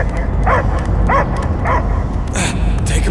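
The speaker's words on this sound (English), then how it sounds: "I hear only barking." A dog in the Guardians of the Galaxy video game gives a series of short, evenly spaced barks and yips over a loud, steady background drone of game ambience.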